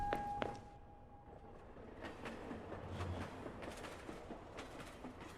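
A train rumbles past in the Station 5 observation game, a low continuous rolling noise with faint clicks and a brief tonal squeal at the start, moderately distant.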